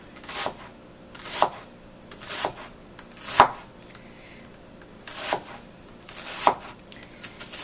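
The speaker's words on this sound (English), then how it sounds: "Then you slice it as thin or thick as you want it." Knife slicing through a peeled onion on a cutting board, about six separate crisp cuts landing at an unhurried, uneven pace, close and clear with quiet pauses between strokes.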